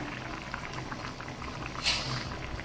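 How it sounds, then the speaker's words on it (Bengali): Curry broth with cauliflower and potato bubbling at a steady boil, a continuous soft popping simmer with one brief louder burst partway through. "ঝোলটা ফুটে গিয়েছে দেখুন।"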